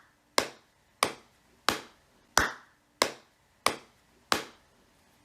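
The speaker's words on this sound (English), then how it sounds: "when I clap the steady beat with these quarter notes" Seven evenly spaced hand claps keep a steady quarter-note beat, each a sharp close smack with a short decay, alone with no talking.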